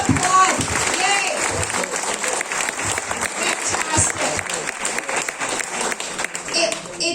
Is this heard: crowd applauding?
yes